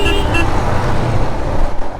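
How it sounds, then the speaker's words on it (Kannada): A Royal Enfield Himalayan Scram 411 motorcycle horn gives two short toots at the start, followed by steady engine and road noise from the moving bike. "ಹಾರ್ನ್ ಇನ್ನೂ ಜೋರು ಇರಬೇಕಿತ್ತು."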